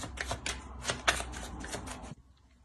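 Tarot cards being shuffled for a reading, a quick run of crisp riffling flicks close by, ending abruptly in near silence.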